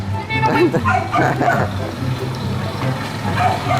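A dog barks and yips several times, mixed with a person's voice calling out over a steady background hum.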